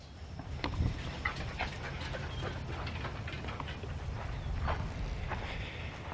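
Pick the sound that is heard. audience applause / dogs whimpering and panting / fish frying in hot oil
dogs whimpering and panting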